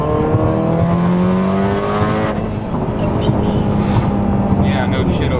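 A 767 BHP tuned Subaru STI engine drones loudly at speed, its tone climbing and shifting as it accelerates, with a person talking over the steady engine roar.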